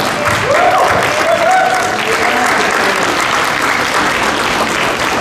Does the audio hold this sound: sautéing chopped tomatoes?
no